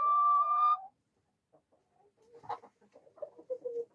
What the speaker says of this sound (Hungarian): Az egy erdélyi fajta tiszta kakas amúgy, ha valaki nem tudná.